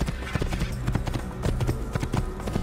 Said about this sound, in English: Beastly horse.